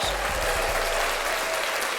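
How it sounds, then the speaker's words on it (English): A round of applause on a basketball talk podcast, dense and steady clapping held at a constant loud level throughout, with no voices over it. "another round of applause"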